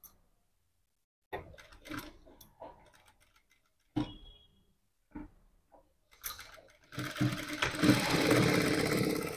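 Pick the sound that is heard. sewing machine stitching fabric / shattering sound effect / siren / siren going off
sewing machine stitching fabric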